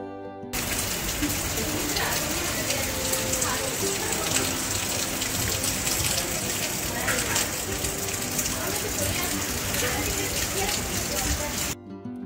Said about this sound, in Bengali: ডিউটিতে এসে দেখি প্রচণ্ড ঝড় বৃষ্টি শুরু হয়েছে